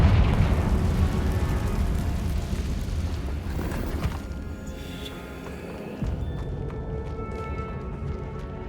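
An explosion from the Confringo spell in Hogwarts Legacy, a heavy rumbling blast that gradually fades, followed by a smaller thud and a lingering low roar.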